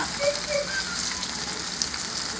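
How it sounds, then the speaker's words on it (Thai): Sun-dried salted fish deep frying in hot oil until golden and crispy, a steady close hiss of sizzling with faint crackles, no voices. "ปลาเค็มแดดเดียวของเราก็เริ่ม ที่จะ สีเริ่มเหลืองเริ่มดูกรอบแล้ว"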